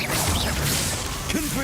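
The Confringo spell is cast in the video game Hogwarts Legacy, giving a brief dense whoosh and crackling burst that fills the short moment at high loudness.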